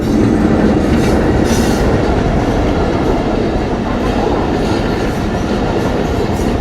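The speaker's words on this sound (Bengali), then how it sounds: "এটা হচ্ছে আমাদের ভাঙাতে যাচ্ছে ট্রেনটা" A train bound for Bhanga rumbles past close by, with a loud continuous roar of wheels and carriages and faint clickety-clack throughout, no voices.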